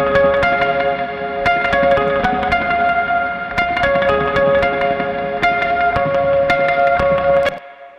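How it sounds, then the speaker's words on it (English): Electric guitars played through an amp with reverb, sustained ringing chords and struck notes with a washy tail, loud and continuous before stopping abruptly near the end. "I think these guitars has reverb from his amp"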